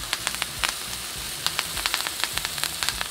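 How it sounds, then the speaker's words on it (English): Strip filet mignon steaks frying in a hot pan, a close, continuous sizzle dotted with frequent sharp crackles and pops. "While the strip fillets are cooking"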